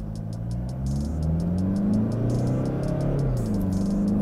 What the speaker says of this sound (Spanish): ahora llegó el momento de la aceleración, lo pongo en modo sport, vamos a drive